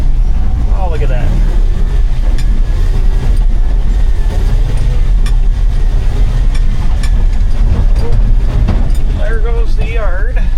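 A 1980 Dodge W200 Sno-Commander snowplow truck runs in gear with a loud, steady low engine rumble close by, while people talk over it.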